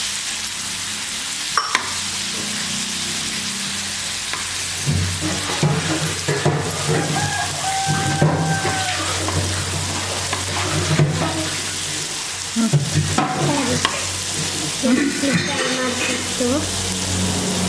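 Food frying in shallow oil in a pan, a steady broadband sizzle running throughout with occasional clinks and stirring sounds, close and moderately loud.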